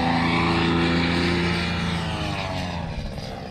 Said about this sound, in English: I want to see him just climb straight up full throttle.